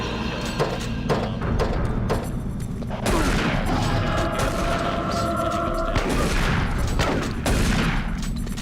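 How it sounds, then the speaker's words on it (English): Shotgun blasts from the video game Doom 3, several loud close booms spaced a few seconds apart amid rumbling game noise, with someone talking over the action. "I quite like the Doom shotgun"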